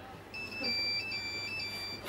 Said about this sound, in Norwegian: Telefon der. Faen, telefon!